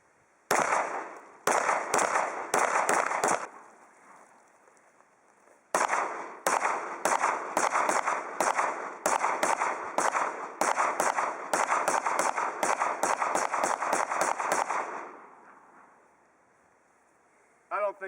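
A Glock 19 pistol fired at targets outdoors: a string of sharp, loud gunshots, a brief pause, then a longer, faster volley of shots.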